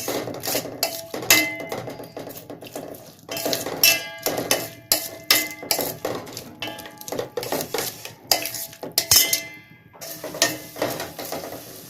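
Ground paste being sautéed in a pan for Ambur chicken biryani: repeated clangs and scrapes of a metal spoon against the pan in an irregular rhythm, close and clear, with no talk.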